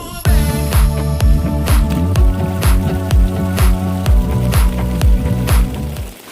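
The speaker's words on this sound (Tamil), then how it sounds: "நம்மளுக்கு இப்போ தண்ணி நிறைஞ்சிக்கிட்டு இருக்குது" Water gushes into a homemade swimming pool in rhythmic, squishy surges, loud and close, each pulse splashing at an even pace with no talking.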